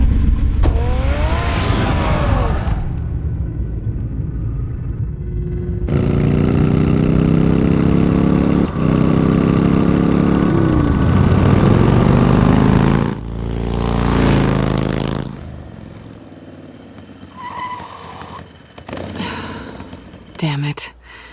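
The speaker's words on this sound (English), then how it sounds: "Get the car ready, Alfred." A Batmobile engine in the Batman Telltale video game idles and revs with a steady mid-pitched drone, interrupted by a brief surge and then a fading tail, while game dialogue plays over it.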